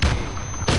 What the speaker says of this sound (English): Dude, can this kid stop RPGing?